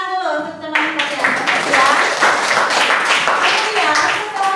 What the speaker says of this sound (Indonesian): Tepuk tangan dulu untuk teman-teman ya.